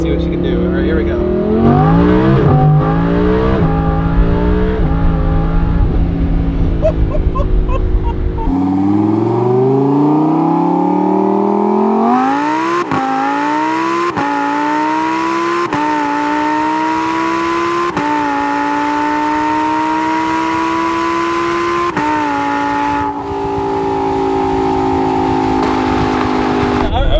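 A Lamborghini Huracan engine revs hard through several gears at full throttle, pitch climbing steeply then dropping at each shift, loud and close throughout.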